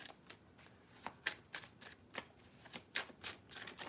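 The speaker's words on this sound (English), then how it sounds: "See, this deck is shuffled enough now." A deck of tarot cards is shuffled by hand, producing a steady series of crisp riffling and flicking bursts at an uneven rhythm, close and fairly quiet, with no talking.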